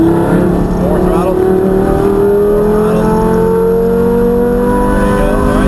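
A Lamborghini on a race track accelerating hard, its engine note rising steadily and loudly through the whole stretch, with an instructor's voice talking over it.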